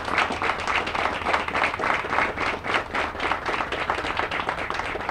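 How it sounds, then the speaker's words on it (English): Audience applause at a college graduation ceremony: dense, steady clapping from many hands fills the hall for about five seconds, moderately loud with no speech over it. "Please stand for a round of applause."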